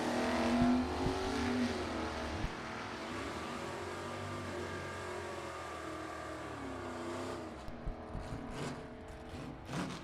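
A 1972 Cutlass and a 1978 Mustang drag racing down the strip, engines revving hard then fading as the cars pull away, with crowd and track ambience near the end.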